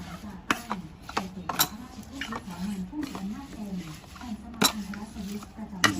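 Larb mixed with fish sauce in a bowl: a spoon stirring with irregular clinks and scrapes against the dish, close and moderately loud, while a person talks throughout.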